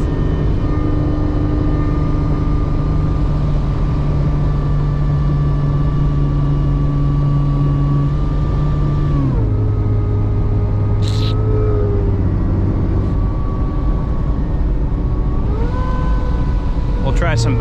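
A supercharged Jeep ZJ runs at full throttle, its engine drone holding a steady pitch, then dropping and climbing again as it shifts, with wind and road noise throughout.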